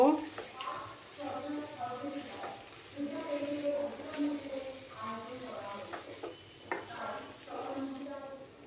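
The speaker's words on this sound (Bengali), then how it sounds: "দিয়ে ভালো করে সমস্ত কিছু একসাথে কষিয়ে নেব।" Chicken sautéing with a ground spice and nut paste in a pan for a chicken ghee roast gravy, with a steady soft sizzle and stirring scrapes running beneath a person talking throughout.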